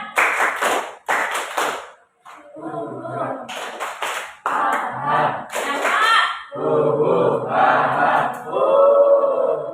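Rhythmic group hand clapping of the 'tepuk Indian' game in a classroom, bursts of sharp claps in patterned phrases broken by short pauses, with children's voices chanting and calling between and over the claps.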